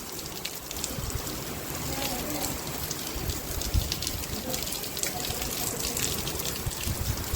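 Heavy rain driven by strong wind lashes a village, bending the trees. A steady, dense hiss of rainfall runs throughout with gusty rumbling underneath, moderately loud and unbroken.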